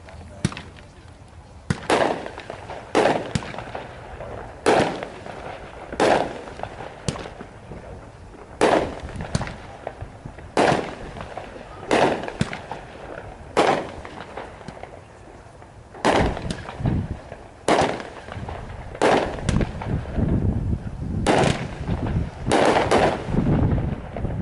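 A Spartans consumer fireworks cake fires at a demo night in Kansas, a long run of sharp booming shots in irregular clusters over roughly 25 seconds, loud and outdoors with wind noise and crowd voices between bursts.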